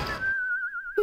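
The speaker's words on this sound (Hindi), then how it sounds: "हम सब यहाँ टेंशन में हैं और शेरा वहाँ पे सीटी बजा रहा है।" A cartoon character whistles one long, steady, slightly wavering high note lasting most of a second, clear and close, ending with a short higher chirp.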